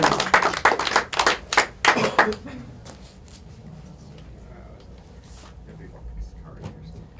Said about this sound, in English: One more time for Rob, everybody. Give him a hand.